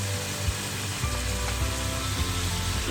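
Chicken and fried onions sautéing in a pan for chicken biryani, a loud, dense, continuous sizzle with occasional stirring scrapes, close up and without talk.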